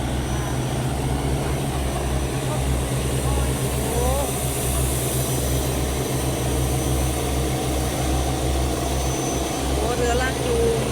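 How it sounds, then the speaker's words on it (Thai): Tugboat engine on the Chao Phraya River, a loud, steady low diesel drone with throbbing pulses running unbroken throughout, close by, with voices faint underneath. "โอ้เรือลากจูง"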